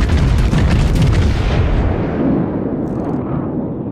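Heavy naval guns boom in World of Warships, a loud, dense blast that rolls on and slowly decays over several seconds, with no talk.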